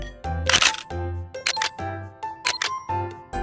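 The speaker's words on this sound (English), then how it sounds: "It's a digital camera." A digital camera fires its shutter repeatedly, sharp mechanical clicks and clacks arriving in irregular bursts with short whirring sounds between them, close and clear with no talking.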